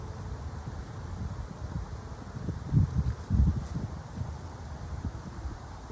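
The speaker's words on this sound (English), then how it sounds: "All right, so the wind is blowing" Wind gusting over a microphone among hot pepper plants in a garden, a low steady rumble with a couple of stronger puffs and light rustling, no voices.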